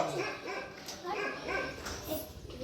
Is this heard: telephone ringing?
no